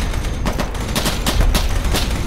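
Arma 3 gunfire: a rapid burst of loud, close shots cracking in quick succession, with no voices.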